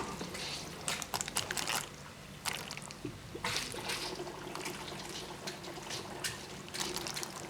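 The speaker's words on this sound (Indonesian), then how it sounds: "Tuh airnya ada terbuang." Water drains out of a Samsung washing machine that had not been emptying, a faint, uneven trickle and splash with scattered clunks and handling noises close by.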